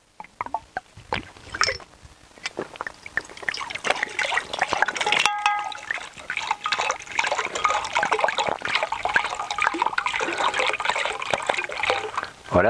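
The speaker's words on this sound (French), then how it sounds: "Voilà, dans 1 litre d'eau." Water trickles and bubbles continuously around stainless steel plates submerged in a litre of water, a steady liquid fizz close by with no talk.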